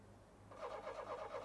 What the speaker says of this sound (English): a car, possibly a blue Talbot Horizon, having difficulty starting outside Wendy's house